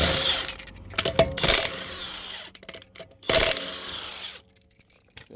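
Two bursts of a power tool whirring close by on the 19 mm lug nuts of a 2019 Honda Accord rear wheel, each with a rising whine and a rattling tail, separated by short pauses with faint clanks.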